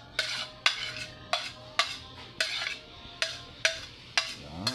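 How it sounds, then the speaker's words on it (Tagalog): A utensil stirring food in a pan, about nine evenly spaced scraping strokes, each a bright clattering scrape fading quickly. Close and clear, with a faint sizzle underneath and no voices. "Haluin ang haluin."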